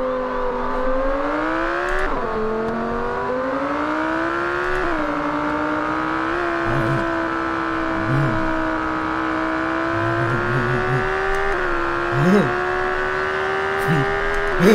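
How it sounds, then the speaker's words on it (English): An Audi R8's exhaust drones loudly and steadily, its pitch climbing, then dropping in steps like gear changes through the drive. "Exhaust."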